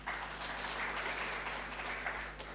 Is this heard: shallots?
no